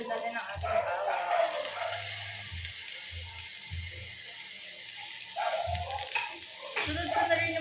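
Onion and garlic sautéing in a pan for chicken adobo give a steady background sizzle, with a few scraping stirs. A voice talks over it at intervals.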